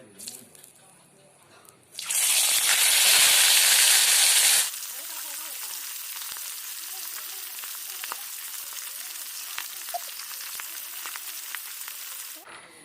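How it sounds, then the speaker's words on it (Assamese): Local fish goes into hot oil in a pan for an Assamese curry with lily stalks. A loud burst of sizzling spits for a few seconds, then settles into a steady, softer crackling fry. "তেল পকিলে এতিয়া মাছটো দি দিওঁ"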